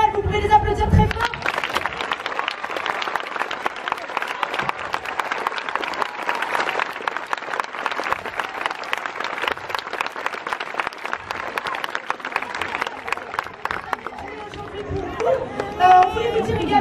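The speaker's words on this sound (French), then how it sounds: "Vous pouvez les applaudir très fort." An audience at a festival applauding a performing company, with dense sustained clapping and some crowd chatter lasting most of the clip, loud and close, with a voice speaking briefly at the start and end.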